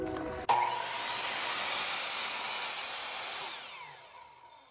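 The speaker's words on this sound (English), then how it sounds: "So we're gonna use this miter saw to cut it." A miter saw cuts through a wooden dowel, starting with a sharp bite and a steady loud whine that holds for about three seconds before winding down to a fading hum.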